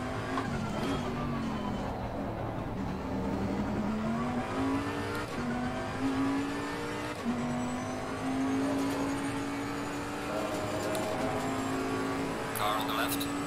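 Old Bentley racing car in a driving video game, its engine revving steadily with rising pitch through the gears, loud and continuous under a speaking voice.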